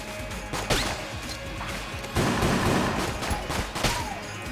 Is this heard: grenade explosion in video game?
yes